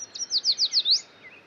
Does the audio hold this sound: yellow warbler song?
yes